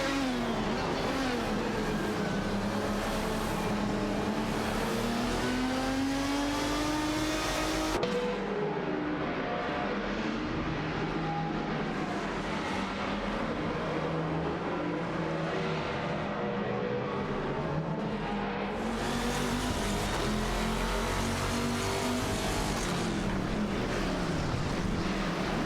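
Race cars in an AI racing video game accelerate and rev continuously, engine pitches rising and sweeping with overlapping passes, loud and sustained with a brief drop in intensity midway.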